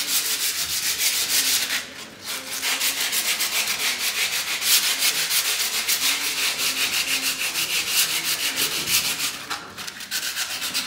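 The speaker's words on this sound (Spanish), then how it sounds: "Échele agua, dele una tallita con su lija 120 y chéquele." Steady, rhythmic scraping of wet 120-grit sandpaper rubbed back and forth across a hard decorative bathroom stone surface, close and continuous, with no voices.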